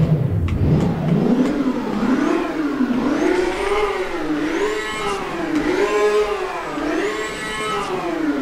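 A car engine in the video game Driving Empire revs repeatedly, its pitch swelling and falling in rhythmic waves through several gear changes, loud and close with no voices.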